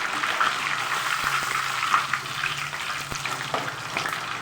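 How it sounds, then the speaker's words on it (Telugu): Prawns, first cooked with turmeric, salt and a little lemon juice, fry in hot oil for a pickle, giving a steady, close, continuous sizzle and crackle with no talk. "వాటిని ఇప్పుడు ఈ ఆయిల్లో ఫ్రై చేసుకున్నాను."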